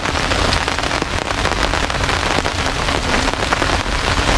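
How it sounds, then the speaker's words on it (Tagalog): Heavy rain beats down hard on surfaces at a campsite, a loud, dense and steady patter with scattered sharper drops, heard alone without talk. "At napakalakas ng ulan dito sa campsite."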